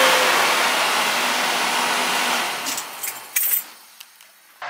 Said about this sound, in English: And the heater also has an extra blower.